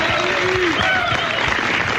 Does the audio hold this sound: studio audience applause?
yes